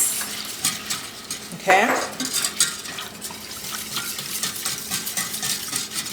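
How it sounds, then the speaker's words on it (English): Milk being whisked into a sauce in a pan: a soft continuous stirring scrape with light liquid sloshing runs throughout, close and steady, with a brief spoken word near the start. "Now I'm going to put in that milk, stir it as I put it so we have no lumps."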